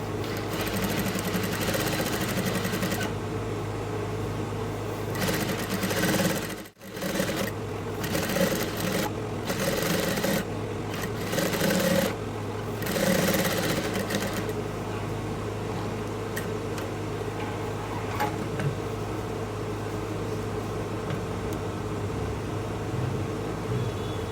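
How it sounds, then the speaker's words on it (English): A Susei P950 industrial sewing machine runs steadily with a gathers foot fitted and tension set very tight, a loud close mechanical hum and rapid needle clatter, with a brief stop near the middle before it resumes and continues alone. "I'm just going to place it under here like so, and then I'll start sewing."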